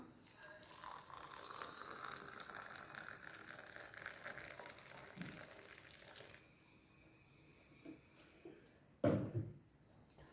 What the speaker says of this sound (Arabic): دلوقتي بقى ننزل عليهم بكوبايه ميه مغليه